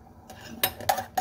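A metal spoon clinks sharply against a pot while scooping boiled eggs out of hot water, three distinct close clanks spaced apart over a quiet background.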